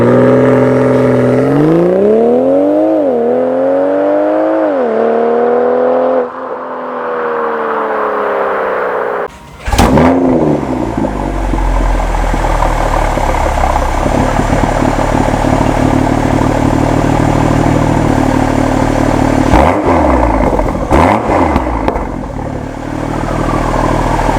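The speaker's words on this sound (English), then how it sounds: "I can't get over how good this exhaust sounds" A BMW X3 M40i SUV engine revs repeatedly through a loud sports exhaust, rising and falling in pitch, then settles into a rumbling idle with a few sharp blips.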